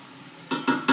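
Tomato meat sauce is stirred in a pot, three quick scraping strokes that each grow louder over a faint sizzle.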